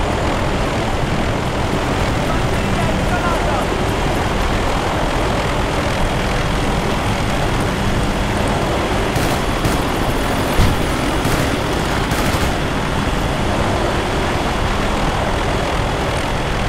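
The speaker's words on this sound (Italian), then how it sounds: "Elicottero in arrivo!" Helicopter rotor and engine noise from the video game Battlefield Bad Company 2, a loud, steady roar that fills the whole stretch without a break, with no talk over it.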